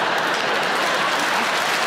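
A stand-up comedy audience breaks into brief, steady clapping, a dense wash of many hands at moderate volume lasting a couple of seconds with no voice over it.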